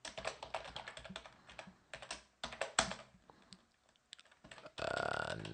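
Keys clatter on a computer keyboard while commands are typed on a server, an uneven run of quiet taps and clicks ending in a brief steady hiss.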